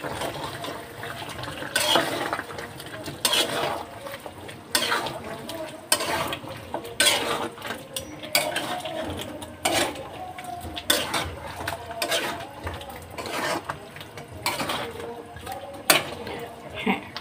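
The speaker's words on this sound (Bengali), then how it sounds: "একটু লাড়াচাড়া করে দিই।" A spoon stirs and scrapes through a pot of curry in repeated uneven strokes, with wet clattering bursts coming every second or so at close range.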